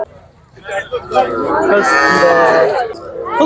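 A young calf moos loudly and close at a cattle market in Anthiyur, one long drawn-out bellow rising over faint crowd chatter in the background.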